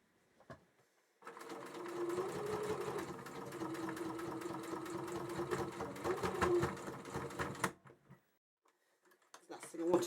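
An Uten sewing machine stitches in reverse, a fast, close mechanical rattle that runs steadily for several seconds and then stops, with a few quiet clicks before and after.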